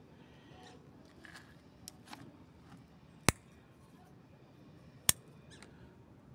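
Scissors prune a low branch from a young ahuehuete bonsai, giving two sharp, crisp snips a couple of seconds apart against a quiet background with light handling noises.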